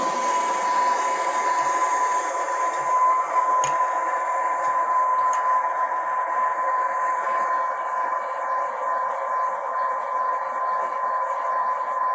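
A heat gun runs continuously while warming a stuck pin on a Ford F150 Platinum power running board, a steady whirring blower hum with a constant tonal whine throughout.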